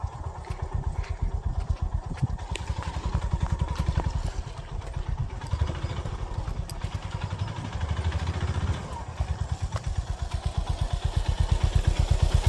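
Motorcycle engine running near a forest river crossing, a close, rapid low throbbing putter that pulses steadily and swells slightly toward the end, with light rattling over it.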